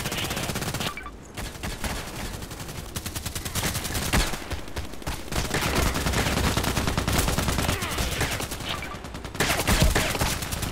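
Rapid gunfire from the video game Contract Wars, including a KelTec RFB carbine, rattles in dense bursts and volleys throughout, with brief pauses between strings of shots.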